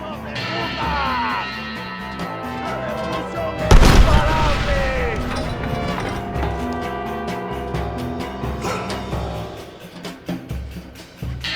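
Cannon fire in the video game Red Dead Redemption: one heavy booming blast booms out, set against game music and battle noise, with voices talking.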